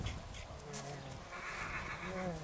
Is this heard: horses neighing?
yes